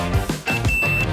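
A steady high electronic beep from a multimeter's continuity test on a Hitachi VRF system float switch, holding for most of a second alongside low rumbling handling noise.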